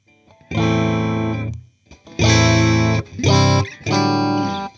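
Electric guitar chords through a Mosky spring reverb pedal ring out in four bright, sustained strums with a splashy reverb tail, played alone at close range.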